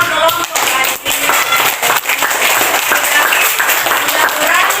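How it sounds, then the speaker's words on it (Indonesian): A classroom of people clapping steadily and densely, loud and close, sustained throughout with a brief dip in the middle. "Tepuk tangan dulu buat semua kelompok hari ini."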